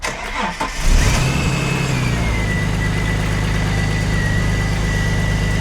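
A manual Ford Falcon BA Mk2 XR6 Turbo cranks briefly and fires, then settles into a steady, close idle with a low rumble, after fresh oil and filter work in the engine bay.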